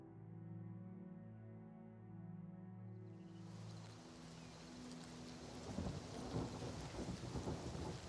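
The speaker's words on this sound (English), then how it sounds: "Hopefully the rain has ended." Rain and rolling thunder from the Oblivion Remastered video game, a steady hiss of rainfall with a low rumble building and swelling toward the end, no voices over it.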